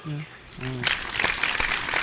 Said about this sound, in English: Very little round of applause.